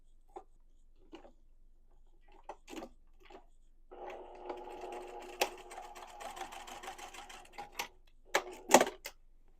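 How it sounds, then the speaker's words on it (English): Sewing machine stitching along the top edge of a peasant dress to form an elastic casing, a quiet stretch of scattered clicks and handling before a steady mechanical run, with sharp thread and fabric snaps at the close. "you're just going to sew just along this edge right here to create a casing at the top for your elastic"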